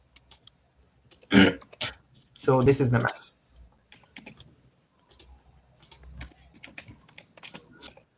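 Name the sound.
computer keyboard shortcut being typed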